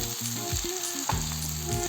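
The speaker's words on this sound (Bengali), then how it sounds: "অল্প অল্প ভেজে নিলেই হবে, খুব বেশি একটা ভাজতে হবে না।" Bread pakora filling fries gently in a pan with a soft, steady sizzle, heard close and alone under a faint background hum.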